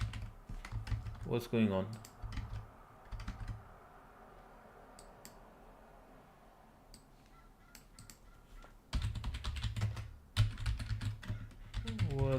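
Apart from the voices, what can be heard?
typing on a computer keyboard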